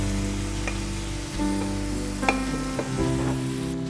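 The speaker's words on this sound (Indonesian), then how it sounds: "Kemudian kita masukkan jengkol yang sudah dikeprek tadi." Crushed jengkol beans are added to water in a pan for semur jengkol and stirred, a steady sizzling, bubbling wash broken by a few soft knocks and clinks of a utensil against the pan.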